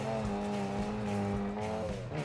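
Rally car engine in the racing game Dirt Rally 2.0, a steady, sustained roar with a strong harmonic drone that holds at a fairly even pitch, with faint tire noise. It plays alone and fairly quietly, with no talk.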